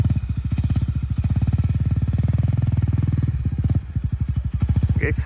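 Honda CRF250L dual-sport motorcycle ridden around a dirt track, its single-cylinder engine droning steadily near and loud, with a brief dip in throttle and then a choppy revving pulse near the end.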